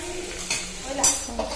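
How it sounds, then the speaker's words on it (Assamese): Onions frying in a pan for homemade sesame chicken, with a soft steady sizzle, scraping stirs and a few clinks of a utensil against the pan, close by. "এতিয়া এইখিনি পিঁয়াজখিনি অকণমান ৰঙা ৰঙা হোৱালৈকে অকণ ভাজিব লাগিব"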